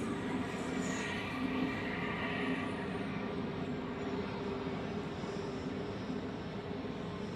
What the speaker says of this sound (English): it seems like American Airlines is cleared for takeoff